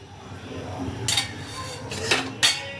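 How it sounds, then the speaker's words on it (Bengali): Metal utensil clinking and scraping as salt and turmeric are stirred into raw jackfruit in a pan, three sharp clanks over a quiet background. "নুন আর হলুদটাকে ভালো করে মিশিয়ে নিচ্ছি"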